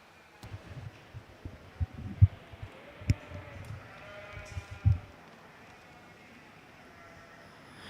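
Corriedale yearling ewes bleat at a junior breeding sheep show at the Ohio State Fair, with scattered short, faint calls amid the low murmur and thumps of a show ring.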